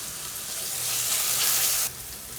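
Gongura leaves and prawns sizzle loudly in a pan as they are stirred, the frying hiss swelling before dropping off abruptly near the end.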